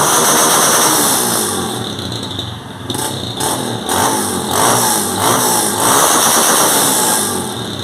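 A repaired motorcycle engine idles steadily and loud, with a rapid pulsing putter and a few brief blips in the middle, heard alone without talk.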